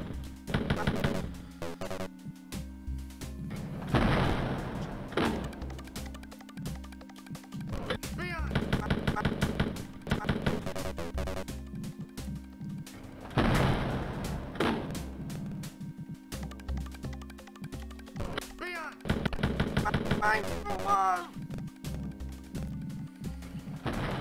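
Gunfire in Wolfenstein 3D, with repeated bursts of shots recurring every few seconds over a steady game soundtrack and effects, loud and close.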